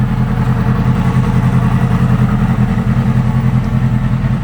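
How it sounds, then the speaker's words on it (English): A 2009 Yamaha R6 sport bike idles steadily up close, a loud, even mid-pitched engine drone with a fine mechanical clatter and no pauses. "Bike idles, runs strong."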